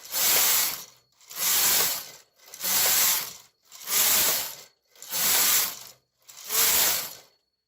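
A Brother KH940 knitting machine carriage sliding back and forth across the needle bed, six evenly spaced rasping, clattering passes about a second each with short pauses between, close and clear.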